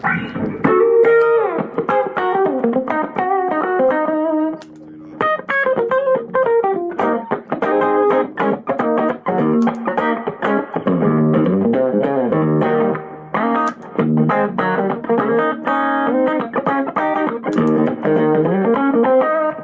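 Electric guitar played through a Milkman 100-watt amp head with light spring reverb into a Jensen-loaded cab, country jam band rig: a steady run of clean, twangy melodic phrases and chords with a brief pause near the start, no talking.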